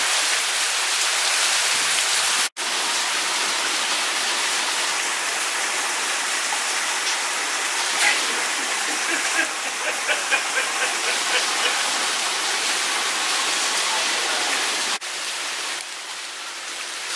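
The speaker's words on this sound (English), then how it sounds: "Still raining down here." Rain from Hurricane Hanna falls steadily in Houston among old trees near a rising bayou, a dense continuous hiss that fills the scene, broken by a sharp cut early and a softer drop near the end.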